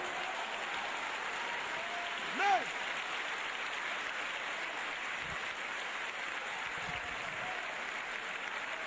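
A church congregation applauds in a steady, dense wash of clapping that holds evenly for several seconds, broad and fairly distant, with a brief vocal sound rising above it.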